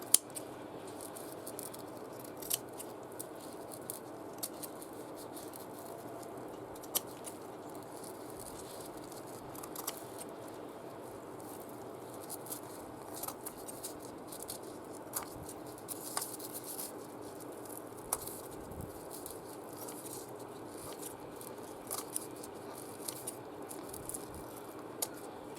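Scissors snip and trim stretchy fabric for making Christmas baubles, a run of faint, irregular small clicks and cuts spread across a quiet room with no talking.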